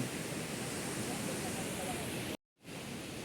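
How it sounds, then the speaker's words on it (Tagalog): Large ocean waves roll onto a beach where people are swimming, a dense, loud, steady surf wash that cuts out abruptly for a moment before resuming. "At ang laki ng mga alon, yung mga alon, laki-laki ng mga alon guys"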